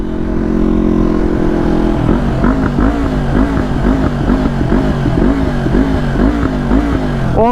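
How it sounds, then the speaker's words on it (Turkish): A loud motorcycle engine idles roughly, then revs repeatedly with rhythmic sputtering pops and crackles from a faulty exhaust, close to the listener. "Galiba iyi gelmiyor egzozun sesi. Şu anda çatara patara egzoz kafayı yedi."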